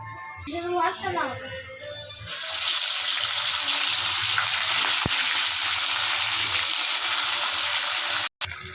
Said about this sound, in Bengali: তেলটা গরম হয়ে গিয়েছে, এবার এর মধ্যে বাটা মাছগুলো একে একে ছেড়ে দেব